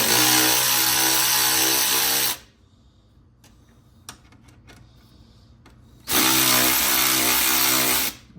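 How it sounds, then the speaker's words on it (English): An electric ratchet loosens bolts on a motorcycle in two loud, steady whirring bursts separated by a quiet pause with a few faint clicks. "I didn't show you guys yesterday really any of the electric ratchet working, I figured I'd show you guys today on the bike"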